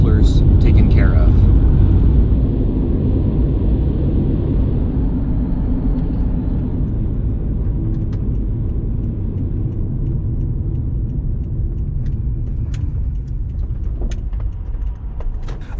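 A 2009-2013 Subaru Forester drives along a road toward Glenwood, heard from inside the cabin as a loud, steady low rumble of engine and road noise throughout.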